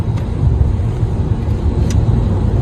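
Steady low engine rumble and road noise from a Mercedes-Benz C200 in motion, continuous and fairly loud throughout.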